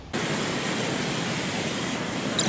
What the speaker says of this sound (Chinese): 又开始下雨了